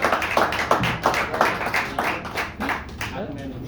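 An audience at a comedy show claps for a comedian, a dense patter of applause running throughout with a voice talking over it.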